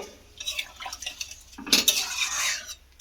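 Hot water poured into a pan of soybean and egg curry, with metallic clatter of a spoon against the pan and a steady wash of pouring sound, close and fairly loud, with no talking.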